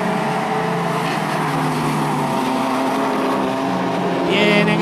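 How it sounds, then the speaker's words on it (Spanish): A Honda Civic Type R race car at a Costa Rican club racing event, its engine roaring loud and sustained as it accelerates along the track, the tone climbing steadily with a sharper high-pitched whine rising at the end. "Acelerando su Type R"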